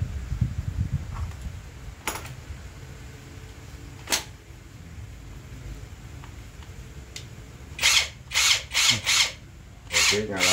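An APR AP126 Pro Max 1000 Nm impact wrench is tested in a workshop: a few sharp clicks early on, then a series of short, loud hammering bursts close by near the end.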